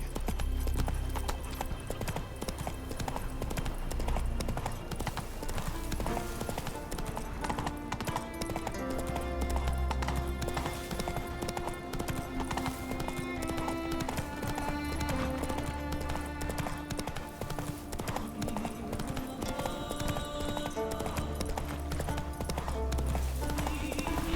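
Steady clip-clop of a horse's hooves as Geralt's horse Roach trots through The Witcher 3, the rhythmic footfalls running under game music and ambience, with a brief whinny and some talk.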